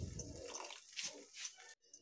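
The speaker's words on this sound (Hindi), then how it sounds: "अब हम इसमें 1/4 कप पानी ऐड कर देंगे" A quarter cup of water is poured into tomato sabzi cooking in a pan, a faint brief splash and sizzle that cuts off abruptly near the end.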